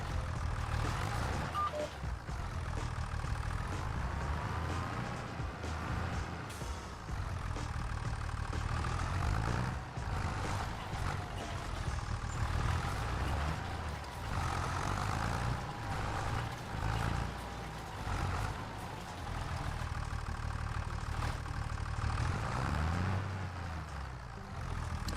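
A tractor in a farming game runs its engine at a steady, low, droning hum, with revs rising and falling slightly throughout, no talk.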